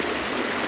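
A waterfall pours in a steady, loud, broadband rush, close and uninterrupted for a brief moment.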